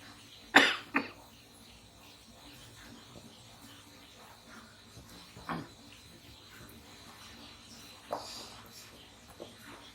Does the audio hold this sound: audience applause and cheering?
no